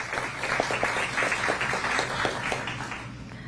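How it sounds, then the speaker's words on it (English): Applause at a school board meeting, a moderate wash of clapping from a seated audience with distinct individual claps, continuing steadily for a few seconds. "let's give Trustee Gorsuch a big round of applause"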